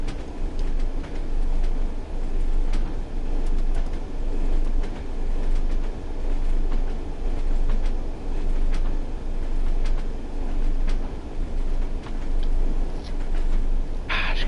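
Train running in Train Sim World, a steady rumbling rail roll with rhythmic clicks and clatter from the wheels, continuous and fairly loud, with a brief sharper hiss near the end.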